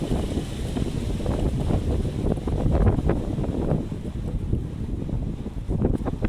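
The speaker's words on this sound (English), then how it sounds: "This wind is ridiculous. It's literally blowing my shoe around." Strong outdoor wind buffets the microphone in a steady, loud, low roar with gusty surges throughout and no speech.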